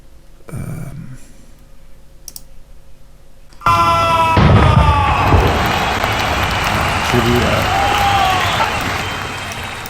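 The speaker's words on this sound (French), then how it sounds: "j'ai des applaudissements du public" Audience applause used as a sound effect for a New Year countdown jingle, bursting in loudly after a few seconds of quieter sounds and holding as dense clapping with some cheering and whistles.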